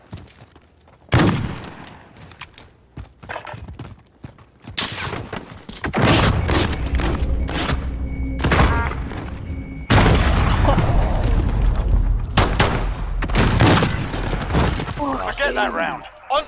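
Gunfire in an English-versus-Scottish video game gunfight: sharp repeated shots and loud bursts in irregular clusters, some booming, with people talking between the volleys.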